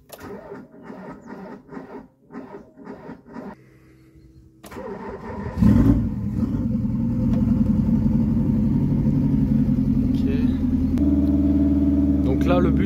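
A cold Renault Espace turbo engine cranks and fires, then settles into a steady, loud idle as it warms up, after a few seconds of voice beforehand.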